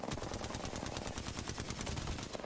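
Rapid, continuous automatic gunfire during an Apex Legends tournament match, a dense rattling stream of shots from several directions, loud and unbroken with no speech over it.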